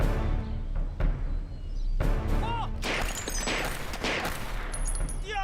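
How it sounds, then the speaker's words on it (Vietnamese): A firing line of rifles lets off a volley in a wartime action drama: loud, dense overlapping cracks and booms, with echoing crashes and a rolling burst of repeated shots. "Hàng thứ nhất, bắn."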